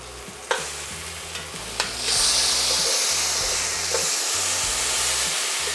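Salmon fillets sear in a hot pan for a firecracker salmon recipe, a steady loud sizzle and hiss broken by a few sharp clinks of a utensil early on, with low rhythmic kitchen background hum underneath.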